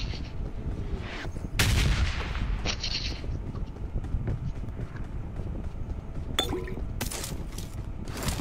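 Shots ring out in a video game: a handful of sharp, fairly faint cracks are scattered among pauses over a steady bed of background noise.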